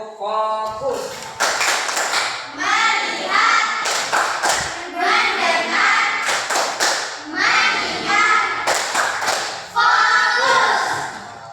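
A classroom of children does the tepuk fokus clapping routine, rhythmic bursts of group claps and thumps alternating with chanted voices, loud and close, repeating in several rounds.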